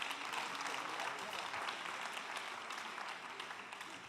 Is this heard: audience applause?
yes